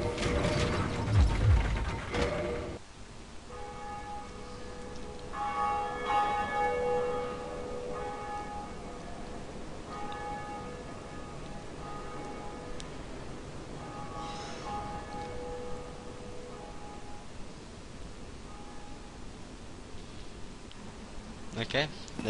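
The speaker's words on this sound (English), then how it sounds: "I'm gonna ring the bell" A bell tolls repeatedly in the Dark Souls video game, its rings sounding as steady metallic tones over mechanical ratcheting and gear noise after a brief loud opening.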